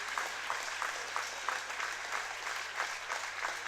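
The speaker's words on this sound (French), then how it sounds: "Il est copieusement applaudi par le public." Spectators at a Club Elite sport-boules match between Saint-Vulbas and CRO Lyon applaud warmly and continuously, a dense steady patter of many hands heard from a short distance.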